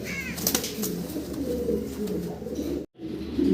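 Large fancy pigeons coo in a loft, soft low throaty calls repeating close by, with a brief chirp early on and faint background noise, cut by a short drop to silence near the end.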